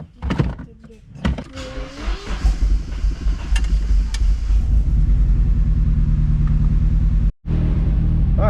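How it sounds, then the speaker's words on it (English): Nissan 240SX S13 with a new turbo cranks with a rising whir and a few clicks, then catches into a low, steady rumbling idle that holds for several seconds, broken by one brief dropout. "let's hop up in this dirty car real quick and start her up"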